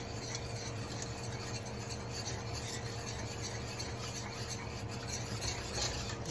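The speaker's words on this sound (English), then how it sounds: "Let's whisk that together." Barbecue sauce is whisked into a thin gravy, producing a steady, fairly quiet wet rasping and rubbing with a soft sizzle underneath, continuous and close.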